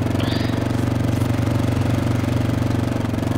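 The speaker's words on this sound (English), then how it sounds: "This motorbike is freaking loud," Motorbike engine in Arma 2, a steady, loud, rapid mechanical chugging that drones on continuously without pause or speech.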